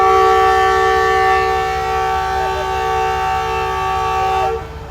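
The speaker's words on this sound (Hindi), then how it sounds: "शालीमार एक्सप्रेस पहुंच चुकी है घोटकी रेलवे स्टेशन पर" Shalimar Express arriving at Ghotki railway station, its locomotive horn sounding a loud, sustained multi-tone blast over the low rumble of the train, then cutting off abruptly near the end.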